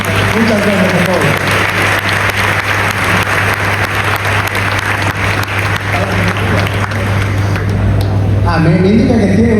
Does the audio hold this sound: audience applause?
yes